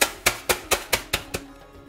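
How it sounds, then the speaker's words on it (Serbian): A hammer pounds pretzels sealed in a plastic freezer bag, giving seven sharp, close thuds at a steady quick rhythm that fade after each strike, with no talking. "da prebacimo ove perece i da mi to fino dobro izmlatimo ovim čekićem."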